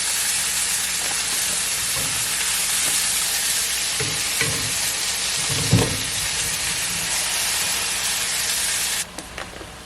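A stick of butter melts and sizzles in a hot pan, a loud, steady frying hiss with a few soft clinks and stirs before the sizzle drops away near the end.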